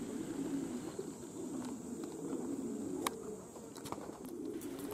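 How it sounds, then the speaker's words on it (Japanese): Pigeons coo softly near an old car, low repeating murmurs against a quiet outdoor backdrop with faint insect-like hiss and a few light clicks. "毎日のように遠征に行く鳩たちです。"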